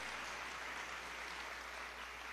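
Concert audience in a theatre clapping together, a dense, steady wash of applause that holds at an even level throughout without any voices on top.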